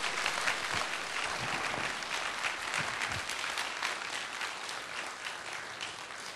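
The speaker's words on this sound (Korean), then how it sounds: "우리 크게 다시 한번 박수 쳐줘요." A church congregation at an evening revival service breaks into dense, sustained applause, many hands clapping together in a steady roar that eases slightly toward the end.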